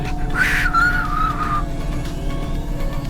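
A short whistled melody of a few wavering notes in the video game Cloudpunk plays over a steady low engine-like hum, then fades, leaving the hum alone.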